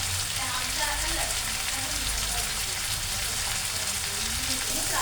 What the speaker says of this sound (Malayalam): ഉള്ളി ഒന്ന് മൂക്കിക്കടം വരെ വെയിറ്റ് ചെയ്യും.